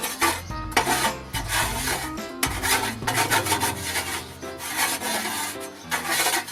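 A cooking spatula scrapes the inside of a dirty kamado grill with rough, rasping strokes, repeated rhythmically and close, with no talking.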